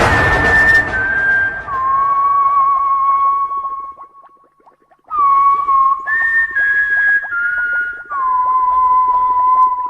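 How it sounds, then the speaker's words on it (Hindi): A person whistles sustained, sliding tones loud and close, in long held notes with a brief pause midway before the whistling resumes. "तुम ये सीटी क्यों बजा रहे हो?"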